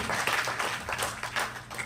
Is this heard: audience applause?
yes